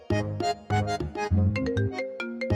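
A mobile phone rings with a short electronic melody, played loud and close with no talking over it.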